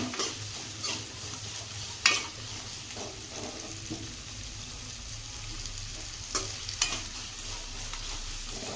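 Onions fry in a pan, giving a low continuous sizzle broken by a few scraping stirs and sharp knocks of a spatula against the metal, close and without speech.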